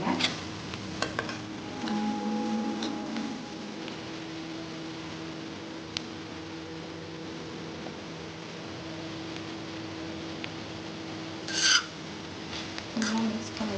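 Egg varuval with coriander and curry leaves being stirred in a pan, giving soft, steady scraping and rasping strokes throughout, fairly faint, with a brief brighter scrape near the end and no talking.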